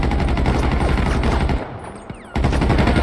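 Rapid automatic gunfire in GTA 5, loud and continuous bursts that drop out briefly to a quieter stretch with a single shot, then resume at full intensity.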